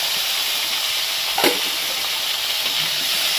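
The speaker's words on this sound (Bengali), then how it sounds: "এবার ফুলকপি গুলো ভেজে নেব ওই তেলের মধ্যে।" Cauliflower florets frying in hot oil in a home kitchen, a steady loud hiss and sizzle with a brief brighter crackle partway through, no voices.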